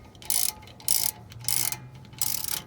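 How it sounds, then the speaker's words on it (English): A hand ratchet works a brake caliper bolt loose on a 2010 Dodge Ram 1500 with a 4.7 V8, giving four short, crisp bursts of clicking at a steady rhythm, close and alone. "when you're removing the bolt for the brake caliper"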